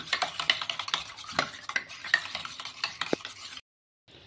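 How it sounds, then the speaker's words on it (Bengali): Two eggs being beaten in a bowl, rapid clicking whisks and taps of utensil against the bowl in an uneven rhythm, close up, ending in a short silence. "ডিমগুলি ভালোভাবে ফেটিয়ে নেবে"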